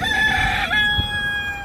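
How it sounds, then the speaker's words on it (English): A rooster crowing on a street in Grand Cayman, one loud, drawn-out cock-a-doodle-doo close by, followed by a softer tail of the call. "Just down the street, more roosters."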